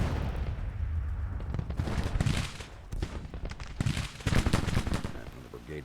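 Musket and artillery fire crackle in a Civil War strategy video game, with volleys of overlapping shots and heavier booms in uneven bursts at close to mid range.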